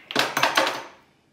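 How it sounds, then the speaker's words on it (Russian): Eggs whisked in a bowl for fish cutlets, heard as three quick clattering strokes of a utensil against the bowl, close and fairly loud, fading into a short ringing tail. "взбиваем яички"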